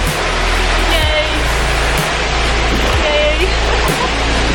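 Llanos de Cortes waterfall in Costa Rica rushes as a loud, steady broadband roar close by, with a brief splash or wind bump and faint voices in the mist-filled setting.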